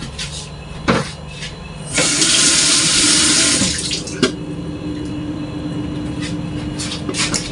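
Water running from a kitchen tap while plastic ice candy molds are washed, a steady splashing stream that swells louder for a couple of seconds mid-clip, with a few clunks of handling, close by.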